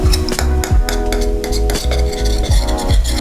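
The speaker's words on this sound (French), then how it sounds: "on va mélanger la sauce soja et le miel et 95 ml de cette sauce Worcestershire" Soy sauce, honey and Worcestershire sauce stirred together in a bowl for a Tochigi-style yakisoba sauce, with a utensil clinking and scraping rhythmically against the dish over soft music.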